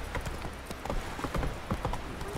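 Roach, a horse in The Witcher 3, gallops with rapid, rhythmic clip-clop hoofbeats, close and steady across a short stretch, without talk over them.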